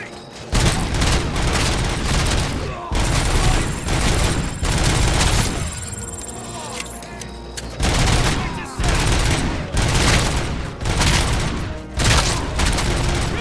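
Heavy gunfire in Robocop: Rogue City, loud sustained volleys of shots and booms in several long bursts separated by brief lulls, with shouted voices in the mix.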